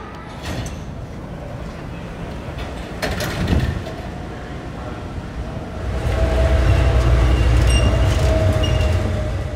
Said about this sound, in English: We're going to take the blue line back to Terminal 1 and then the tram out to the sea gates from there.